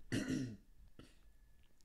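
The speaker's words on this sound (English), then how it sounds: "Let me clear my throat." Someone clears their throat once with a harsh rasp close to the microphone, followed by a quieter short second clearing.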